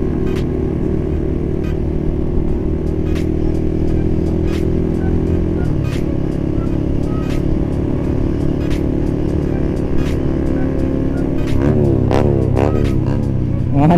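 A Kawasaki ZX6R sport motorcycle engine drones steadily at close range during a group ride, and near the end the revs swing up and down in quick rising and falling bursts.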